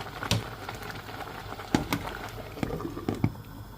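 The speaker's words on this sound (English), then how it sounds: "Our tomatoes is cooking well" Tomatoes cook in a pot for a Nigerian vegetable stew, giving a faint, steady bubbling and simmering with scattered soft pops and spatters.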